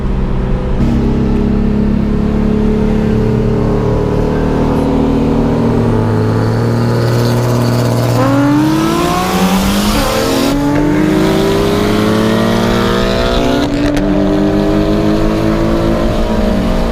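A Nissan 350Z and a Mitsubishi EVO X race on the road, their engines loud and close, revving hard and climbing through gears with sweeping pitch rises and shifts, and no voices.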